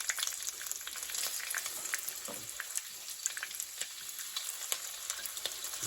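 Chicken pieces for sweet and sour chicken sizzle and fry steadily in hot oil in a pan, a dense continuous crackle with scattered sharp pops, fairly loud and close with no talk.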